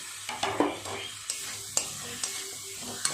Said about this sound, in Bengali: দিয়ে দেবো ভেজে রাখা আলু দিয়ে মশলার সাথে আর একটু ভালো করে কষিয়ে নেব